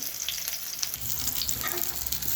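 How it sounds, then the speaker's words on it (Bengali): Eggplant slices fry in hot oil, giving a steady, close sizzle and crackle with no voices. "বন্ধুরা দেখুন বেগুনটা ভাজা হয়ে গেছে"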